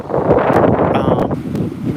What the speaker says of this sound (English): as you can hear, I know it's kind of windy